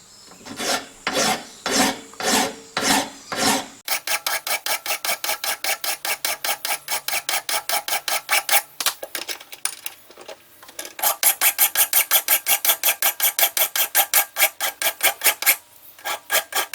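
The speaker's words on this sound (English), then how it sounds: "I can actually hear the file skidding over the surface of that button" An old metal file rasped across a metal button, a rapid series of gritty scraping strokes, slower at first and then quick and regular, close and fairly loud with brief pauses between bursts.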